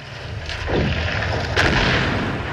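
Tank main gun fire in the War of Tanks game, with an M4A3E8 and a Tiger I: two loud cannon blasts about a second apart, ringing over a constant rumbling battle background.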